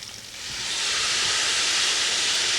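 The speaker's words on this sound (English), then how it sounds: "you'll deglaze a little white wine" A hot pan gives a loud, rising hiss as white wine is poured in to deglaze it, the broad steamy sizzle swelling within the first second and then holding steady without any talk.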